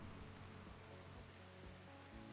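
Steady in-game rainfall in RimWorld: Odyssey, a soft, even hiss of drops on the ground that runs unbroken and fairly quiet, with no voices over it.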